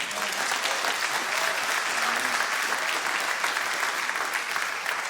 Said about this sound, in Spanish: un aplauso fuerte para sus pastores